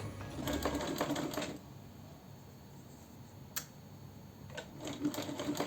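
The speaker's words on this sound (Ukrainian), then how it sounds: "веду зараз строчку вздовж ось цього скотчу, щоб була рівна строчка" A sewing machine stitches a seam on trousers, with bursts of rapid mechanical ticking at the start and end and a quieter pause between them, close up and without talk.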